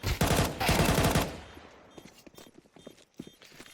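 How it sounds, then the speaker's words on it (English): Rapid automatic gunfire rattles loudly in Counter-Strike 2 during a tournament match, a dense burst of shots for over a second, then scattered quieter single shots and footsteps-like clicks trailing off. "they're shooting at each other"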